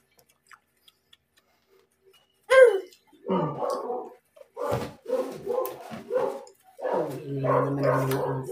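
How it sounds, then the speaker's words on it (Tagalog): Dog barks in a burst of sharp yaps starting a few seconds in, then repeated loud barking near a mukbang meal of pork liempo adobo and fried dalagang bukid fish, continuing intermittently without speech. "Ingay naman ang aso."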